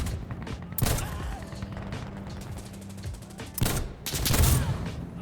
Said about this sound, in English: when I first fired the Deagle on CTE a few weeks ago, I was pretty disappointed with its sound